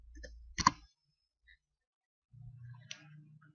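A few isolated clicks of a computer keyboard sound while a GW-BASIC program is typed, close and sparse with quiet gaps between, set against a faint low hum.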